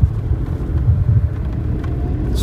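A car driving along a hilly road at night near Aizawl, Mizoram, heard from inside the vehicle as a steady low rumble of engine and road noise with no talking.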